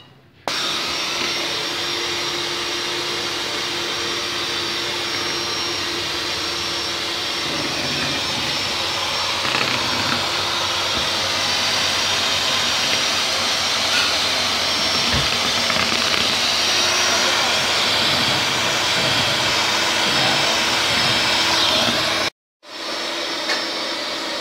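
Electric mixer beating a towel cake batter with milk, a steady continuous whir running at even loudness for about 22 seconds before cutting off abruptly, then briefly restarting.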